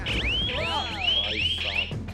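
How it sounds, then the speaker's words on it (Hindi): Electronic alarm from a camping light meant to scare off wild animals, sounding loud and close as a series of rapid rising and falling siren-like warbling sweeps. "इसमें अलार्म सिस्टम है"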